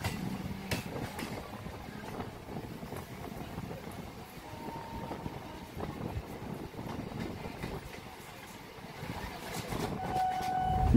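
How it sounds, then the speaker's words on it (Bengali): Hasnabad local train on an Indian suburban line pulling into Dum Dum station, a steady low rumble of wheels and carriages with brief horn-like tones, heard from a neighbouring moving train amid station bustle. "এই দেখুন হাসনাবাদ লোকাল দমদমে ঢুকছে"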